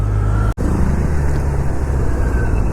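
Riding a Kawasaki Z900 through traffic on an open road brings a steady loud roar of wind and engine with a brief cut-out early on, then constant road noise with no speech.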